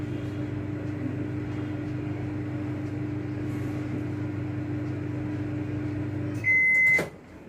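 Samsung microwave oven running while roasting soybean keema, a steady close hum that carries on evenly, then a single beep as it stops and a click near the end.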